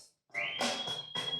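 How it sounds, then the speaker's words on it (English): A high, clear whistle from a song being played rises and holds as a sustained tone, backed by bursts of music, fairly loud with no talk over it. "they're going to whistle. Yeah. Ready for the whistle."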